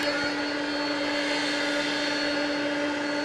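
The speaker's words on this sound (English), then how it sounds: "They're doing some more engine testing right below us, which makes things extra noisy here." Aircraft engines run up for testing on the apron at Atlanta airport, a steady loud roar with a sustained whine, continuous and unbroken, close by.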